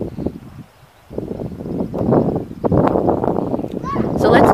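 Wind gusts outdoors beside a Palram Mythos 6x8x6.5 greenhouse in a garden, a loud, steady buffeting roar on the microphone that drops briefly and then swells again.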